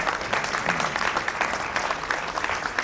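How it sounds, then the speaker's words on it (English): An audience gives a warm round of applause for Dr. Menon as he comes up to receive a Lifetime Achievement Award. The dense, steady clapping stays close and even, with no speech over it. "Please give him a round of applause."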